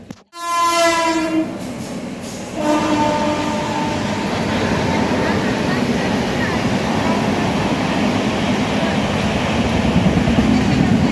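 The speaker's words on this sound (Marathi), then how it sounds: "ही तिसरी रेल्वे" A train horn blares loudly at the start, then a passenger train passing through Lasur station rumbles and clatters steadily on the rails, close by, with a second horn note.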